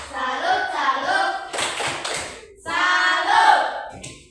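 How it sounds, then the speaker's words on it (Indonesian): A group performs a 'tepuk salut' salute clap, rhythmic bursts of hand claps mixed with chanted voices in a classroom-style discussion session, loud and close, in two main phrases with a short pause between. "Tepuk salut untuk kita semua"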